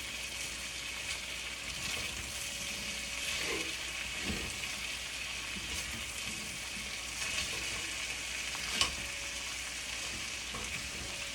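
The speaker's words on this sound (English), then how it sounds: "Let's stir this first." Cabbage and potato sabzi frying in a pan, a continuous hiss of sizzling with occasional soft stirring scrapes and a single sharper clink near the end, steady and moderately quiet, no voices.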